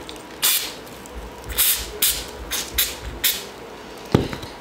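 Short hissing bursts of spray glue from a can, several quick puffs at uneven intervals against a quiet room.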